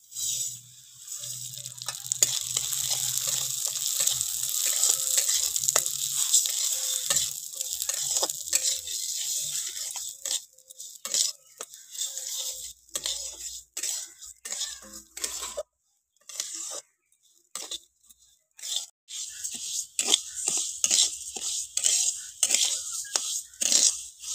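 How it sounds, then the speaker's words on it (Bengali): Rice grains frying in two spoons of ghee in a hot wok: a steady bright sizzle for the first ten seconds, then broken into short bursts with pauses and scraping stir strokes, close and fairly loud. "আমি ভেজে লাল লাল করে ভেজে নিয়েছি"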